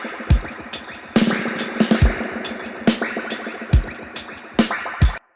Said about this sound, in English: Makes you sound like you're in slow motion underwater.